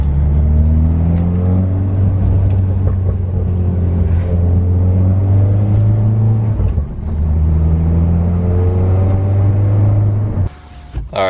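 An oil-burning MK6 Golf R runs loud while driving, a deep steady engine drone with one brief dip partway through and a drop near the end, close and continuous, with no talking.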